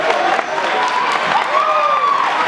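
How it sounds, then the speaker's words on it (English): Brief audience applause at a high school gun control forum, steady clapping under a faint tonal hum and murmuring voices. "I think they all deserve a round of applause"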